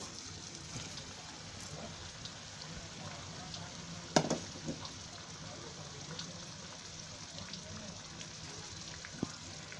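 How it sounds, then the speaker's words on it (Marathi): Besan-stuffed green chillies fry in a pan with a steady, soft sizzle throughout, broken by one brief sharp clatter partway through. "असं मिरची आहे ना, हे छान म्हणजे असं चांगलं भाजून घ्यायचं"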